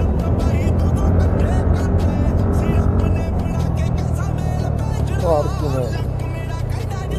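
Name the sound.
car coming from the wrong side past a scooter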